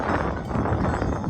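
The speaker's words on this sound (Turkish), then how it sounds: "Rüzgar çok." Strong wind buffets the microphone in a continuous low, rumbling roar with gusty pulses.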